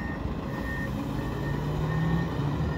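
Reversing alarm on a Komatsu WA 380 wheel loader beeps in a steady repeating pattern over the low idle of the machine, heard close with no talking.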